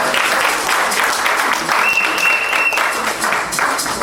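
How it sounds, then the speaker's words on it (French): Applause at a wedding blessing party, a dense sustained clapping of a crowd running steadily throughout at close range, with no talk over it. "Est-ce qu'on peut acclamer pour le Seigneur?"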